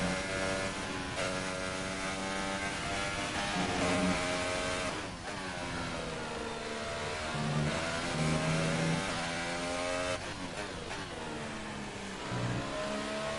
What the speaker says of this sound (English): Sergei Sorokin going quite fast on his set of soft compound tyres